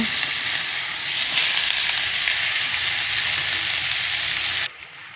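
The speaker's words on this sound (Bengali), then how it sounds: "কালো জিরে দিয়ে এখানে দেখো আমি দিয়ে দেব মূলোটা ভেজে নেব।" Radish fries in hot oil with black cumin in a kadai, giving a loud, steady, close sizzle that roars continuously before dropping sharply in the final half second.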